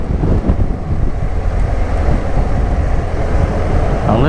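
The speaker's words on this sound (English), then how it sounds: "It's quite blustery. The wind's coming hooling from the" Strong blustery wind buffeting the microphone outdoors, a loud continuous low rumble with gusty surges and no speech.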